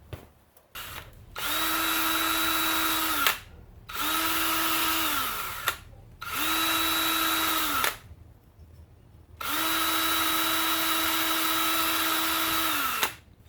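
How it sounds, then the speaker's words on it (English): A power drill fitted with a wire brush scrubs an ATV brake drum and the brake shoe contact points in four long, steady bursts. Each burst spins up and winds down with a whine, close and loud. "Hit them with a wire brush, and do the same thing here for the contact points of the brake shoe."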